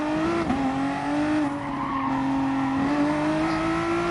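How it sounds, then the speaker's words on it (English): A VW Supersport pushed hard into a corner at the Nürburgring GP circuit in a racing game gives a long, steady tyre squeal that bends slightly in pitch over the droning engine. "And because I'm pushing more on the way into the corners, I've got a lot more tyre squeal"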